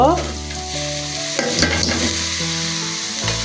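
Potatoes with turmeric and salt fry in a pan, giving a loud, close sizzle with stirring, over a steady tonal hum that shifts partway through.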